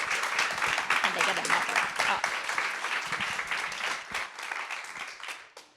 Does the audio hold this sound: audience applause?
yes